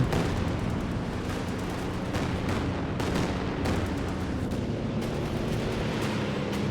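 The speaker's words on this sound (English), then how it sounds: "Everyone is just spamming rocket artillery." Relentless rocket artillery barrage in Company of Heroes 2, including Katyusha and Calliope launchers, pounds on with dense overlapping blasts and rumbling impacts filling the whole stretch at a steady, loud level.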